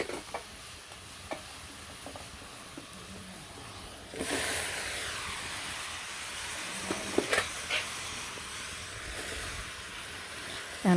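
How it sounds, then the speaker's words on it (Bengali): Water heating in a wok for steaming taro leaves in a village kitchen: a steady broadband hiss that swells after a few seconds, with occasional light clinks and knocks, no talking. "এখন কচু শাকগুলো ভাপ দিয়ে নিই একটু।"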